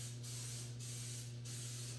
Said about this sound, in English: I'm going to get that ready by just spraying it with a little cooking spray